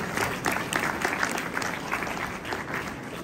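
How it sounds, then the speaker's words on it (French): Audience applause at a conference session: a dense, even patter of many people clapping, moderately loud and continuous, with a few louder claps poking through and no voices over it. "j'aimerais un tonnerre d'applaudissements pour Run, Guillaume Saint-Gelin, Baptiste Pagani et Petit Rapace"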